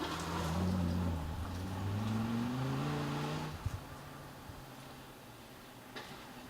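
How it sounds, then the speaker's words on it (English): A beam-axle Land Rover Tornado off-road racing car at a British cross country championship round in Bovington, its engine droning and rising in pitch as it works through the course, then fading off into quieter ambience. "great fun driving these beam axle Land Rover Tornadoes through the off-road courses"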